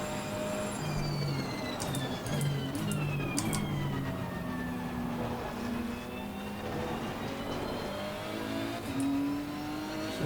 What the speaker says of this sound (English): absolutely love the sound that this Nissan makes